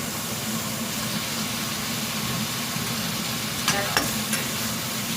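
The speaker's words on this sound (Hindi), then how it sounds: "अब मैं ऐड करूँगी चिकन" Chicken sizzling in a hot pan with a steady loud hiss, a couple of brief stirring scrapes near the end.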